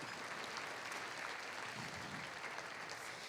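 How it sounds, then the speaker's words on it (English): Faint, distant applause fills a Springfield Area Sports Hall of Fame banquet hall, an even wash of many hands clapping that holds steady throughout. "please give a round of applause to his crew from Mediacom"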